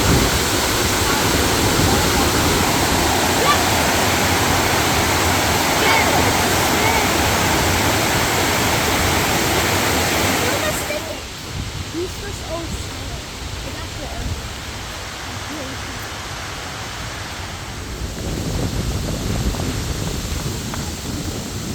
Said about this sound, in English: there's water dropping from up there